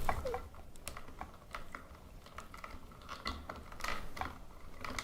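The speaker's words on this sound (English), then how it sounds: "I'm going to take this wire nut, and I'm going to screw it on" Plastic wire nut being twisted onto ceiling fan wires, a string of small, faint clicks and scratchy ratcheting ticks at close range with no talking.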